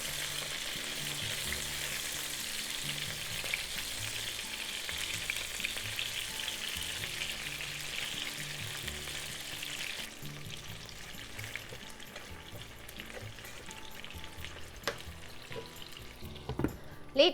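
Pork-wrapped onion rolls fry under a lid in a pan, giving a steady broad sizzle and crackle throughout, with faint background music-like tones and a few louder clinks near the end.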